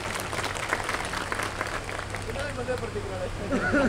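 A crowd at a political rally in Bhimber gives dense, continuous applause for a few seconds, fairly close and uniform in loudness.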